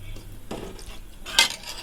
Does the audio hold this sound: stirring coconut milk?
yes